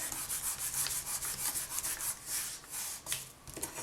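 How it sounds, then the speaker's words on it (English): Polymer clay piece being burnished smooth, giving a steady close-up rubbing and light scraping texture with repeated strokes throughout, no talk. "now I'll burnish again just to make sure it's nice and smooth"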